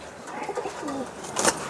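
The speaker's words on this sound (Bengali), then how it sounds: "চট কবুতরগুলো দেখায়" Chot pigeons of the desi Giribaz breed coo close by, a couple of low throaty rolling calls, with a sharper flutter or scuffle near the end.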